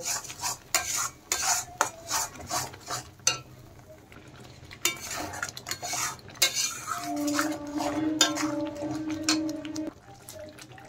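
A spoon clatters and scrapes against a pan while spices with chili powder are stirred and fried for paneer curry, with repeated sharp metallic knocks over a faint sizzle.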